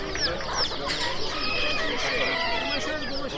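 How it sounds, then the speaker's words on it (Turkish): Several chickens cluck and squawk together continuously at a bird market, a busy close flock with overlapping calls and no talking. "Bunlar değerli yalnız. Değerli tavuklar."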